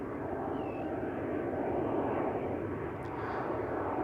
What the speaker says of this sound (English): More departures taking place from center right now. Another E2 going out to Munich.